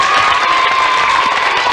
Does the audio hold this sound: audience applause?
yes